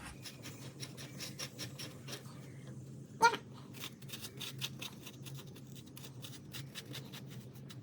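Quiet, rapid rasping strokes scrape seeds out of a bitter gourd repeatedly and fairly regularly, with one sharper tap partway through, over a faint low background hum.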